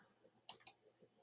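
Two quick, sharp clicks of a computer mouse a fraction of a second apart, close and crisp over near silence, with faint keyboard-like ticks around them.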